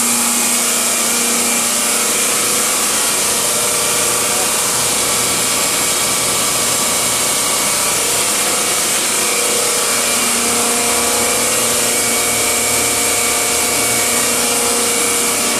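A vacuum blower on a soil vapor extraction trailer with air sparge equipment runs steadily and loudly, a constant whining roar with tonal hum throughout and no talking.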